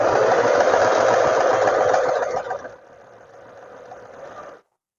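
Sewing machine stitching the hem of trousers, a steady close mechanical whir that drops to a lighter run partway through before stopping abruptly, with no talk.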